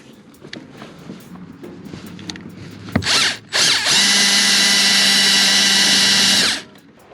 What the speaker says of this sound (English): I think everything looks somewhat good, so start drilling.